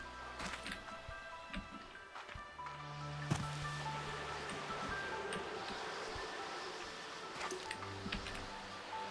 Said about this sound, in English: Why is there so much wind up here?